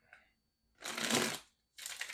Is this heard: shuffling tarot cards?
yes